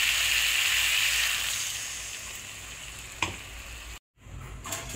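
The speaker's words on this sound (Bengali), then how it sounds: "এবার জল দিয়ে দেবো।" A steady, loud sizzle of koi fish curry frying in a pan with potato and cauliflower, then a brief clatter and an abrupt cutoff as water goes in, with the hiss returning more softly.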